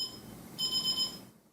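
An alarm clock rings in a short burst of rapid, high-pitched electronic beeps over a faint background hum, then stops abruptly.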